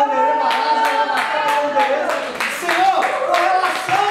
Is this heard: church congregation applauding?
yes